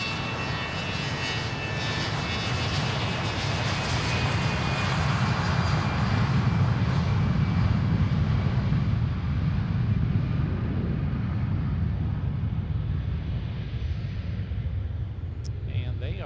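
A private jet taking off from Boeing Field produces a sustained, powerful engine roar with a high whine that swells midway and slowly fades as it climbs away.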